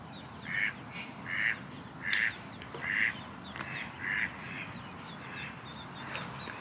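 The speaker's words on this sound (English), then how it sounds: "Five ducks, and here come the little ducklings." Ducks quack in a steady series of short, nasal calls, about seven in a row at a moderate distance over a soft outdoor background at Lake Padden, with ducklings present.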